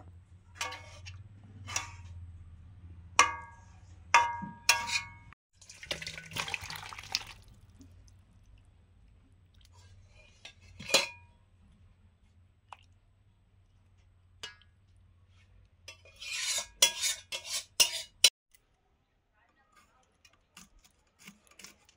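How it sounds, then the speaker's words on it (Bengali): A fish and elephant-foot yam curry is ladled from a pot in bursts of wet drips, splashes and scraping clinks, separated by quiet gaps, with a low steady hum underneath. "ওল আর মাছের রান্নাটা মা নামিয়ে নিয়েছিল, এবার ঢেলে নেব।"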